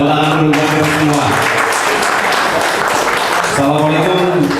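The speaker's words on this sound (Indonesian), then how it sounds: "Tepuk tangan dulu buat kita semua." Audience applause at a seminar on property dispute arbitration, a dense broadband clapping wash filling most of the clip, with crowd noise and tonal sound at the start and end.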